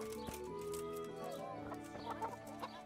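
Chickens clucking in the medieval video game Kingdom Come Deliverance, several hens close by with short overlapping clucks and calls repeating over a steady game background.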